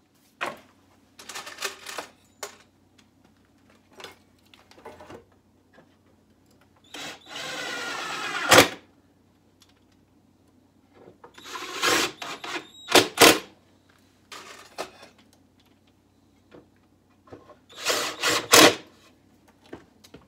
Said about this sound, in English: I always like to pre-drill the holes